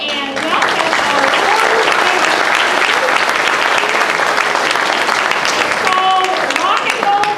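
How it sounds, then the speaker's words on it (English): An audience at a Grade 4 elementary school rock and roll concert breaks into loud, sustained applause that continues steadily throughout. "let's give them a round of applause"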